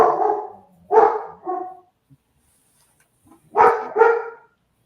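A dog barks in two quick bursts of a few woofs each, separated by a brief pause, close and fairly loud inside a house, with no talking over it.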